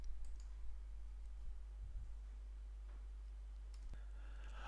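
A few faint single mouse clicks during a Joomla 3 website installation on a computer, isolated ticks spaced about a second apart over a strong steady low mains hum, with no voice.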